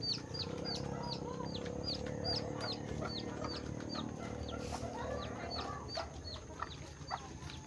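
Chickens cluck at their coop before feeding, with repeated short calls overlapping in a steady chorus at moderate distance over a low background hum.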